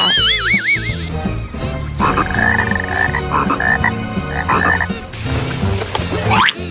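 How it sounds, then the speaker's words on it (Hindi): Cartoonish frog croaks ring out over lively background music, with warbling, bouncy tones and splashy effects through the clip. "यहाँ पानी में मेंढक है, आओ देखते हैं।"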